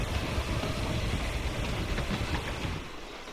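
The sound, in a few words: train moving, from the video game Hitman III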